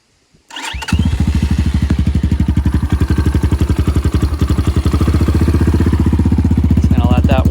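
An X-Pro Titan 250 motorcycle on full choke fires up after a brief silence and settles into a loud, rapid, even idle that thumps steadily while warming up, close by and without talk.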